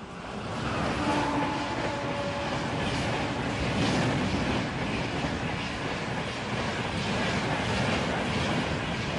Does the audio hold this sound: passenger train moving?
yes